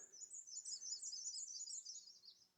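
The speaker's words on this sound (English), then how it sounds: "it's all kicking off the warblers here." Warblers sing in the fir trees of a hemlock bluff in Algonquin, Canada, giving rapid, high, thin trilling phrases that are faint and distant and run continuously with no talk.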